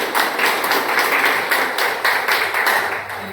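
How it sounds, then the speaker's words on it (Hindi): Loud, sustained group clapping from an audience honouring two elders at a railway pensioners' association gathering in Gorakhpur, a close, dense and steady round of applause throughout. "इन सब लोग के लिए हम चाहते हैं सामूहिक एक बार जोरदार ताली होनी"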